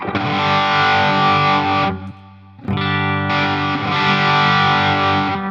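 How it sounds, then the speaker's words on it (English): Heavily distorted, high-gain electric guitar chords from a Line 6 Helix modeler ring out loud and sustained, with a brief gap before the crunchy tone returns. "snapshot 3 is going to be our highest gain sound"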